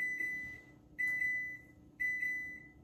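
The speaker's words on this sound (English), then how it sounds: "Is that the fire alarm?" Smoke alarm sounding in a kitchen during cooking: three sharp, high electronic beeps, one each second, ringing out and fading between pulses, fairly close and clear with no voices.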